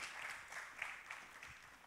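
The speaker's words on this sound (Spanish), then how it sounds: "recibamos con un aplauso a Antonio Vega" A round-table audience at an Andalusian entrepreneurship panel claps to welcome a speaker, faint and distant scattered applause over a couple of seconds.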